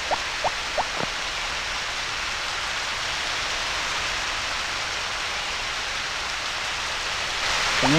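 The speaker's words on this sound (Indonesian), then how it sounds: "Kayaknya nggak perlu disiram karena udah kena air hujan." Steady rainfall from the PlayStation farming game Harvest Moon: Back To Nature, a constant loud hiss of rain that runs throughout, with a few short game chimes at the start and end.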